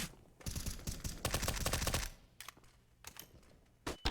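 Counter-Strike: Global Offensive gunfire comes in bursts of rapid shots, then shorter spaced single shots and a final sharp burst, loud and close, with no talk over it.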